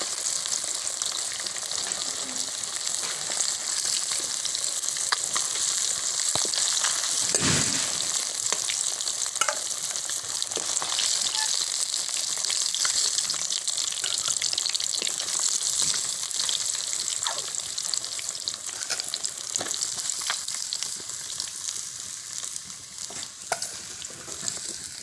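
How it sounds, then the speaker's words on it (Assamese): Onions fry in a pan for a fish and bamboo shoot dish, a steady close sizzle and crackle that runs throughout with occasional stirring scrapes and no talk. "প্ৰথমতে আমি পিঁয়াজখিনি ভাজি ল'ম।"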